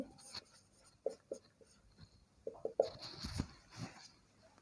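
Pen scratching across paper in short bursts and strokes, fairly close and quiet, with brief pauses between words being written; no talking.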